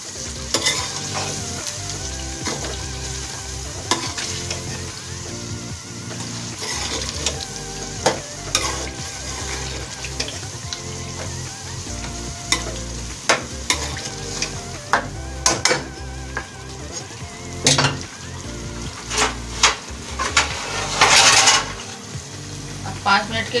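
Chicken karahi stirred in a hot pan, a steady loud sizzle and frying crackle broken by frequent metallic scrapes and clinks of the spoon, close and continuous throughout.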